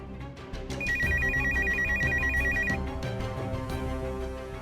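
An electronic telephone ringtone chimes in a quick repeating two-tone pattern at the center of a domestic TV drama scene, with soft background music underneath and no talking.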